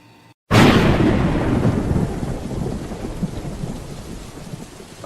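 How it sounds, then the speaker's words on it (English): Heavy rain and a loud thunderclap break in suddenly after a brief near-silence, then the rain keeps up as a steady dense roar with rumbling underneath. "I love the rain."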